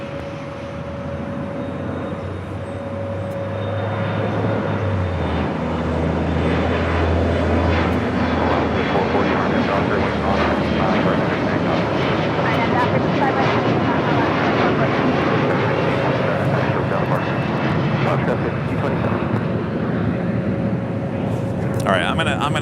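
Airliner landing on runway 25 left at Los Angeles International Airport, a loud, steady engine roar that builds early and holds throughout, with a sustained tone over broad rumble, alone without talk.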